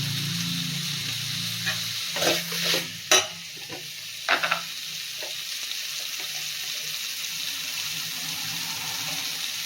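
A spoon stirs drumstick sambar in a pan with turmeric powder, giving a few short scraping clatters over a steady sizzling hiss, close by.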